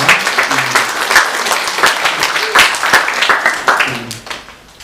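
A church congregation at Sunday worship breaks into warm applause for a couple's wedding anniversary, with close, distinct hand claps layered over the broader crowd and a faint voice underneath before the sound tapers off.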